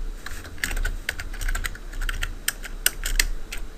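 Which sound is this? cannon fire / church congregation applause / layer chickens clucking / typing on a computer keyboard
typing on a computer keyboard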